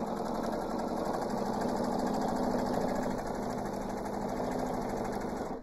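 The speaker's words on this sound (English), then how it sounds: "I love my Pfaff machine because it has this walking foot that is built into the machine" A Pfaff sewing machine with a built-in walking foot runs a straight stitch along the edge of a quilt, a steady, close, rapid mechanical whir and chatter that holds evenly throughout with no talk.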